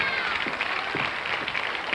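An audience at the eighth Festival Siciliano applauds to welcome a singer, a steady wash of dense clapping filling the whole moment without a break.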